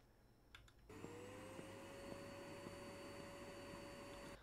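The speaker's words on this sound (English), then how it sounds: "Oh, is this the vacuum? Damn, I got like a state-of-the-art vacuum?" A state-of-the-art vacuum cleaner in a horror video game starts with a click and then runs at a steady, loud whine with a constant hum, tone rising slightly as it spins up, with faint periodic ticks and no talk.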